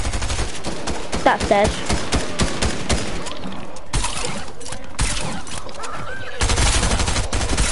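Rapid bursts of video game gunfire in a Fortnite trios match, loud and near, with players talking over the shots throughout.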